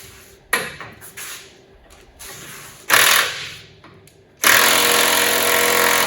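Bursts of a pneumatic impact wrench hammering at a bolt on a Mack Cruise Liner truck, short rattling blasts followed by a longer sustained run, loud and close.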